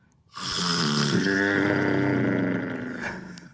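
A person imitates a long, drawn-out snore, a rough growling rasp held for about three seconds, loud and close with no other talk.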